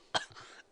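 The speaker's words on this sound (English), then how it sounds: "I think I got a kennel cough." A single short, quiet cough from a man teaching a programming lesson, one abrupt burst followed by a softer trailing breath.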